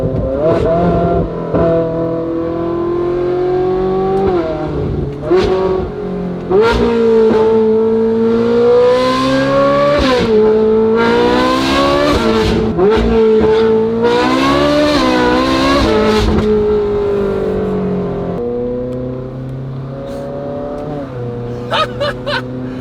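Ferrari 458 fitted with a titanium exhaust and free-flow front pipes revs and accelerates hard, its high-pitched engine wail climbing and dropping through repeated pulls with crackles between, loud and close throughout.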